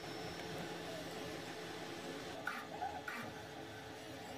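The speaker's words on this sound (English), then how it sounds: "The extruder motor has no trouble pushing the filament through the hot end at the required speed" An FLSUN QQ-S Pro delta 3D printer running with its extruder motor pushing filament, a faint steady mechanical whir with a few soft clicks near the end.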